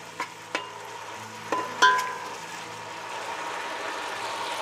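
Peas pulao with ginger and fried onions stirred in a pot, giving a few scattered scrapes and clinks over a steady low sizzle, close and fairly quiet.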